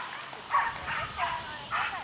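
Dogs chained up at nearby houses bark in a repeating series of four yaps, somewhat distant, under steady outdoor background noise at a disc golf course in Samui.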